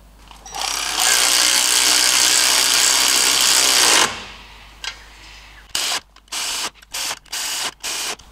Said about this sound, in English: Now I'm going to reinstall our cone washers, flat washers. They're actually lock washers, and nuts.